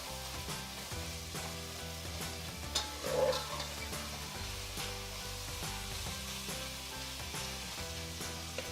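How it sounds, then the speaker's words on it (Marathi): Prawns fry in hot oil in a pan for a prawn biryani, making a steady, moderate sizzle that runs throughout beneath background music. "हे तेलामध्ये चांगलं भाजून घ्यायचं आहे"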